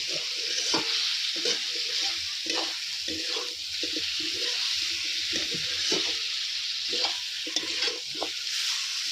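Chicken curry being fried down in a pan, a bright continuous sizzle broken by repeated scraping stirs of a spatula, close and fairly loud with no talking.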